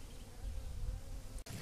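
Honey bees buzz at a hive during a spring inspection, a steady close droning hum that drops out for a brief instant near the end before resuming.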